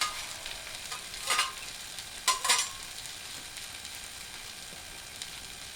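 Hash browns frying on a 28-inch Blackstone griddle make a soft, continuous sizzle, broken by a few sharper bursts as the spatula scrapes and turns them, with no voices.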